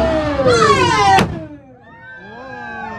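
A cannon fired aboard a pirate cruise boat off Fort Myers, Florida, gives one loud boom at about a second in, set amid a crowd's lively shouting and cheering that continues after the blast.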